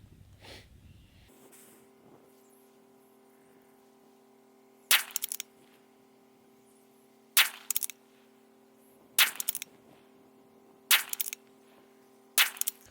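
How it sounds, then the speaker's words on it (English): A CZ 457 rifle fires Winchester ammunition in five sharp, loud shots spaced about two seconds apart, each with a brief echoing tail, over a steady background hum. "we'll shoot this Winchester stuff out of it"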